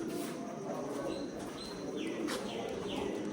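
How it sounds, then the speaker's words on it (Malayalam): Pigeons coo softly inside a cool underground chamber of the Uparkot fort, their calls faint and repeated over a steady hollow background with no talk. "പ്രാവുകളുണ്ട്."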